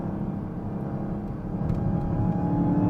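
A Dodge Charger Hellcat King Daytona accelerates in track mode, a steady deep engine drone and whir heard from inside the car that builds slightly louder as it pulls, with no voices.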